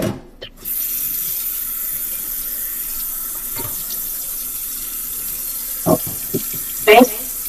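Kitchen tap water runs steadily into a pot being filled for boiling, a close, even hiss with a few clanks of the pot.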